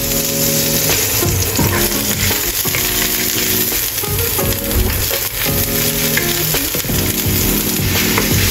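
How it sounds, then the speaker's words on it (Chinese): Ginger slices stir-fried in a wok for a home-style Chinese dish give off a loud, steady sizzle and crackle, with a scraping spatula and low rhythmic clatter running under it the whole time. "下姜片炒香，如果家里有葱白也一起炒香。"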